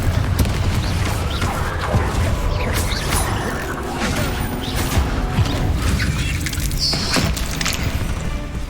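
Spell-casting combat effects in Hogwarts Legacy: loud magical blasts, crashes and creaking impacts pile up in quick succession over a continuous rumble, with a shrill flourish near the end.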